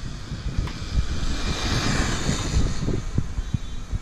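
Traxxas Slash 2WD XL5 electric RC car with a Titan 12T 550 motor and 21/83 gearing running at full throttle outdoors, a steady high whine with wind rush and a few sharp knocks, no talking.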